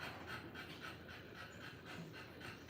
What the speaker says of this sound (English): the way she's breathing is panting